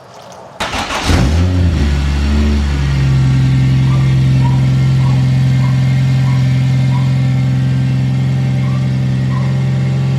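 A Toyota Supra's engine cranks and catches after sitting unstarted for about a month, then settles into a loud, steady running hum close up.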